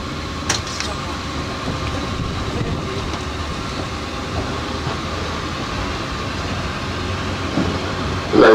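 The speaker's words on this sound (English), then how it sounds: "please stay seated until the tram has come to a full and complete stop" A Disney Castaway Cay tram rumbles and rolls steadily toward its stop on the island, a continuous low vehicle drone with faint background voices, building to a louder burst at the very end.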